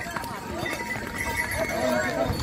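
Horses clop along the Kedarnath mountain pilgrimage path in a steady stream of hoof beats, with occasional whinnies. Someone talks over the sound throughout amid busy outdoor noise.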